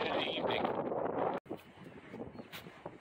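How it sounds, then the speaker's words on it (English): Gusty wind ahead of a storm front in the White River Badlands buffets a nearby microphone, roaring steadily, then briefly cutting out before softer rustling gusts continue. "Ooh, it's windy!"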